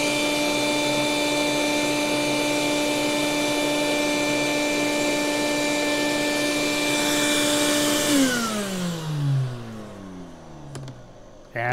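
A vacuum cleaner fitted with a hose runs steadily, used to suck lint out of a Bernina sewing machine, a loud constant whine with a steady hum that winds down near the end as the motor switches off.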